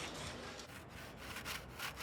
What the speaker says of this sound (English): Scrape off the damaged part so that the paint sticks better.